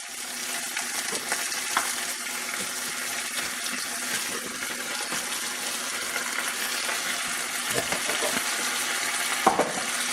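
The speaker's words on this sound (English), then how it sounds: "We're going to give that kind of a good stir." Cherries and dates being stirred in a pot for a glaze, giving a steady wet churning and sloshing that runs continuously with no one speaking.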